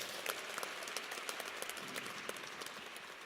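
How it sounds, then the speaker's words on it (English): A university audience applauds at a football coach introduction, a steady wash of clapping that sounds fairly distant and quiet, without talk over it. "Give us a warm round of applause."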